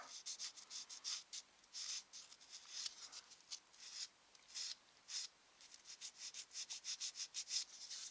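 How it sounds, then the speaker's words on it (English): A sanding stick works over a curved plastic part of a 1:12 scale Tamiya Yamaha RZ250 motorcycle model, removing a seam line from a rubber hose. It makes close, dry rasping strokes in quick bursts, some short and rapid, others longer, with brief pauses between. "the reason I'm using the sandy sticks is the part I'm sanding is curved"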